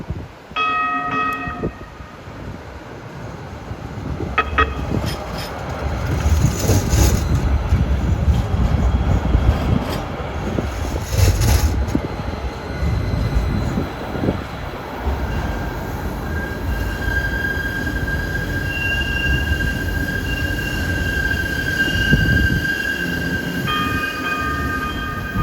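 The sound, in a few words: light rail train passing with squealing wheels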